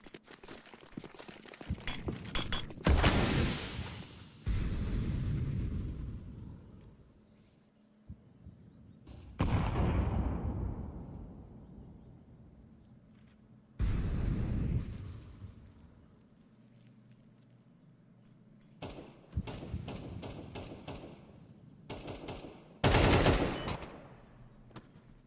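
AK rifle fire in a competitive first-person shooter video game, several sharp bursts of rapid shots separated by quieter stretches of footsteps and ambient game noise, loud and close.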